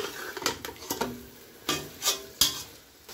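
Two small sliced tomatoes tipped into a hot pan for mushroom biryani and stirred, with soft sizzling under repeated scraping strokes and clinks of a spoon against the pan, close and alone.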